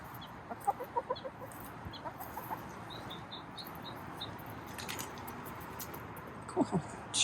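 Chickens in a compost area give soft, scattered clucks and short chirpy calls, faint and somewhat distant over a low outdoor background, with a few louder close sounds near the end.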